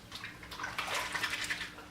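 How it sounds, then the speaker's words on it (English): Wet linen clerical collars scrubbed against themselves in water, a steady close splashy rubbing and sloshing that swells and eases for about two seconds, with no talk. "I just take the dirtiest parts of the collars, and you can just kind of scrub them on themselves to help clean those areas"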